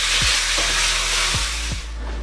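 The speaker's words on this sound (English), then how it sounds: "Give it a bit of a stir. And you want to brown this off for around 3 to 5" Beef for a braised ragù sizzles steadily as it browns in a hot pan, with several dull scraping thumps from a utensil stirring it, loud and close.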